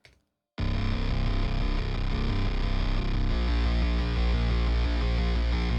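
A Synth Magic Maker synthesizer plays a dense, sustained distorted chord pattern after a brief silence, loud and continuous with a thick low end and shifting notes.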